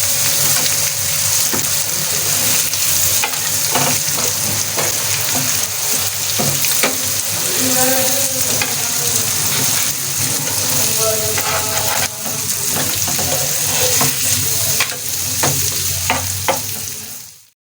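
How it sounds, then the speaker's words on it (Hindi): Chicken and potato kababs fry in a pan with a loud, continuous sizzle and bubbling that carries on throughout, broken now and then by clinks and scrapes of stirring. "अब ये देखें आप इस तरह से फ्राई हो रहे हैं ये"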